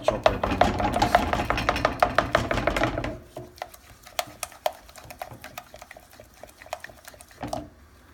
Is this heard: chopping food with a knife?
yes